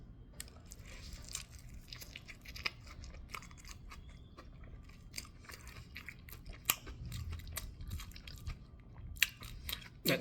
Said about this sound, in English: It's like eating spicy chicken and a burger.